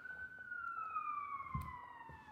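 An ambulance siren wails from a distance outside, its tone sliding slowly downward as it passes by, steady and moderately faint.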